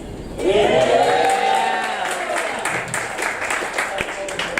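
Comedy club audience at an LGBT comedy night breaks into sustained applause and cheering, a dense wash of clapping that swells quickly, then holds steady and slowly thins, with a voice rising above the crowd near the start.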